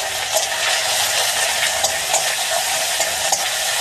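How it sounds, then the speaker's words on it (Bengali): Onion frying in oil with panch phoron and a generous amount of nigella seeds, a loud, dense, unbroken sizzle close up with faint stirring ticks and no speech. "মধ্যে আমি পেঁয়াজটাকে দিয়ে দিচ্ছি ভেজে। একটু ভালো করে ভেজে নেব পেঁয়াজটা।"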